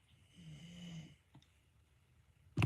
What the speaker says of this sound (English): My little dog over there, Obi, snoring away